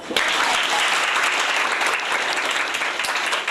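An audience in a school setting in Mattru Jong claps steadily and densely for several seconds, a full, even wash of hand claps close by.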